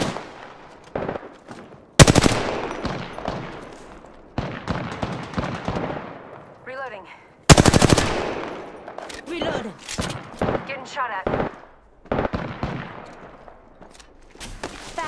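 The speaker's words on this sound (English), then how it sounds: "Shooting!" Rapid automatic gunfire from Apex Legends gameplay, sharp bursts and sustained volleys of shots recurring throughout, loud and close, with a voice speaking between the bursts.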